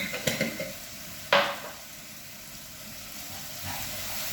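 A spoon scrapes and clinks in a pot of golden gram cereal with a beef cube, two short knocks then a steady sizzling simmer underneath.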